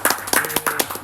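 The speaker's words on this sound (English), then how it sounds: "Give me a round of applause, guys." A small audience claps briefly: a short, uneven burst of close hand claps with a few sharp, separate strikes.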